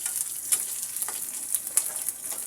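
Green chilies and black cumin seeds fry in hot oil, a steady close sizzle with scattered crackling pops and occasional stirring scrapes, no voices.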